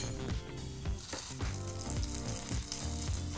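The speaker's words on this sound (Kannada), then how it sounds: "ಹಾಗೆ ಈ ಒಗ್ಗರಣೆನ ಚಟ್ನಿಗೆ ಹಾಕ್ಕೊಳ್ಳೋಣ." Hot tempering of fried seasoning poured into peanut chutney, a loud close sizzle with crackling bursts throughout, no voices.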